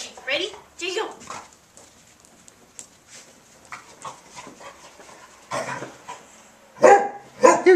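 A hound dog barks close by in short bursts at the start and again near the end, with a person talking in between.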